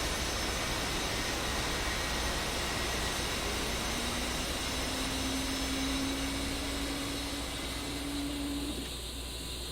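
An A-10C jet engine in the DCS flight simulator runs with a steady, loud broadband roar, with a rising whine joining midway that holds for several seconds and then stops. No one speaks.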